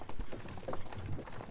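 Horse hooves clip-clopping in the medieval video game Kingdom Come: Deliverance II; quiet, unhurried hoofbeats with soft irregular knocks at a slow walking pace.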